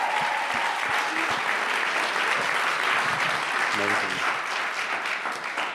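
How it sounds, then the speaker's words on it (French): Applause from a standing audience at a church event, dense and sustained clapping with cheering voices mixed in. "Juste de rester debout, applaudissez-les."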